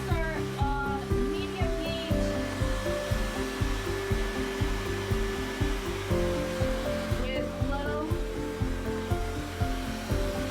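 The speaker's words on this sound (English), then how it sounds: "The Bopcal Ionic hairdryer is equipped with a high-speed brushless motor." A Bopcal Ionic hair dryer with a high-speed brushless motor blows in a loud, continuous whoosh with a steady motor whine, pulsing slightly as it moves, close and running throughout with background music.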